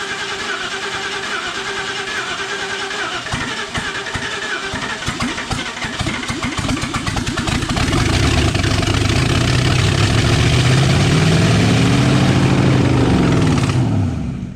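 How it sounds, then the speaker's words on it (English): A Ford 302 Cleveland V8 in a P6 LTD, left sitting twenty years and rat-infested, cranks with rapid uneven firing, catches and settles into a loud, steady, rough idle close by, with no talk. "It's a running motor."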